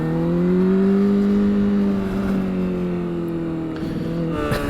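A rebuilt 2008 Honda CBR600RR motorcycle is ridden at high RPM, its engine holding a loud, steady high-pitched drone that eases slightly before a shift near the end.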